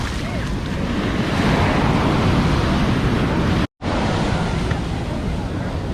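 Atlantic Ocean surf rolls steadily onto Copacabana Beach in Rio, a dense, continuous wash of breaking waves with wind rumble and no clear voices.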